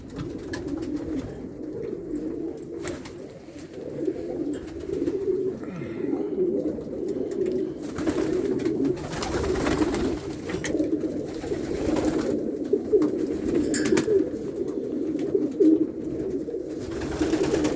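Pigeons coo steadily and close by, a low continuous burbling chorus with occasional brief rustles and no talking.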